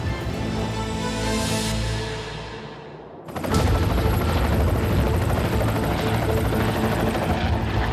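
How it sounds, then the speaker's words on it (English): A Seasprite naval helicopter flies overhead during a boarding operation at sea, its loud rotor thrum first fading to near silence then surging back close and steady with rapid blade chop. "Te Kaha's Sea Sprite helicopter will provide cover over the far side of the dhow"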